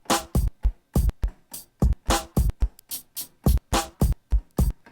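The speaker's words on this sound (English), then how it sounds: "So if I play the keyboard chromatically, the loop will play like this." A sampled loop chopped across keyboard keys in the TX16Wx sampler plays chromatically, producing a rapid series of short, punchy percussive hits in an uneven rhythm, each slice starting sharply and cutting off quickly, with no talking.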